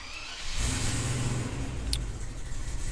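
A Range Rover Classic with an ABS fault starts moving and pulls out of a shed, its engine rising into a steady close rumble with a brief high chirp partway through.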